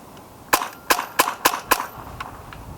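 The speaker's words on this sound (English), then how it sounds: "Now we're going to shoot the Barrage. 5 rounds." Five sharp, evenly spaced shots from a Hatsan Barrage semi-automatic airgun, each a crisp, loud crack in quick succession, with a faint echo trailing after.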